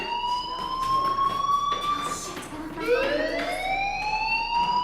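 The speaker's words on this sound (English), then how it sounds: "do you hear that fire alarm? That means you should be outside." A wailing electronic alarm sweeps up and down in the video game Life Is Strange, rising tones repeating at moderate loudness in a steady cycle with no speech over it.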